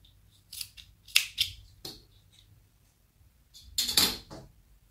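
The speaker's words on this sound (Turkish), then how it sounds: "Şimdi bu kısımlarının fazlalıklarını kesip çıkarıyorum." Scissors trim excess Şile cotton gauze from a handmade dress, giving crisp close snips in short clusters separated by quiet pauses, with a final burst of several rapid cuts.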